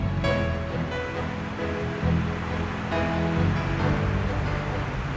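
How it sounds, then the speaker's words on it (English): A fountain's water cannon throws a big wall of spray over the Chicago River, a constant rushing hiss heard from a boat with a low engine hum underneath. "The water cannon there, which is currently putting a big wall of water in our path"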